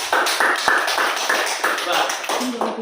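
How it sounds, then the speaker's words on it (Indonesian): A classroom of students claps together in a quick burst of applause for a classmate, the many light hand claps overlapping densely, close and fairly loud, continuing steadily. "Ayo Niara, beri tepuk tangan dulu buat Niara."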